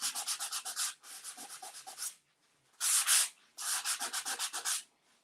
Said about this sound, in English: usually I don't like to use sandpaper, but as this one is pretty, it's not as strong